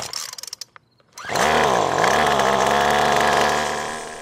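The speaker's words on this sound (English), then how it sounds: "So I'm going to start mine up, I'm going to press the choke lever down, turn the on switch to 1," A gas two-stroke string trimmer with the choke on gets several quick pull-cord tugs, then fires up into a loud, buzzing, revving idle that dips once and settles. The sound is close and steady, with no talking.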